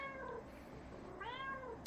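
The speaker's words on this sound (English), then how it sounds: "Meow, meow, meow." Two quick meows from a cat sound close by in a quiet room, the second slightly longer and rising, each short and clear with a soft background hum.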